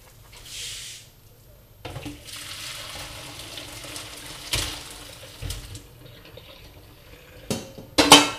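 Boiled broccoli lifted out of a pot of hot water for a broccoli-and-ham dish, with watery swishing and dripping, a few metal clinks of utensils against the pot, and a sharper clatter at the end.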